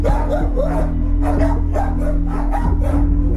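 Several dogs held in police-contracted kennels after a raid bark repeatedly in a loud, echoing chorus, with sharp barks and yips over a steady low hum.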